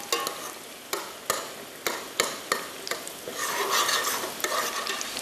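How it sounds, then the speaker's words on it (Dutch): Cauliflower pieces frying in a pan, a steady sizzle with several sharp clacks of a utensil stirring and turning them, the sizzle swelling louder near the end. "En zo ga je dat bloemkool alle kanten tot een gouden kleurtje even bakken."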